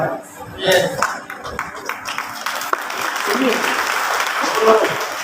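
An audience applauds at a religious sermon; a short spoken stretch at the start gives way to a swelling wash of clapping that continues under a speaking voice.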